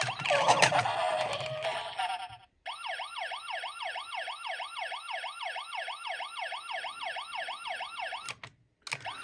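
A Tomica Hyper Blue Police toy car's siren wails in a steady, rapid electronic up-and-down pattern for several seconds, preceded by a burst of clattering and ending in short clicks.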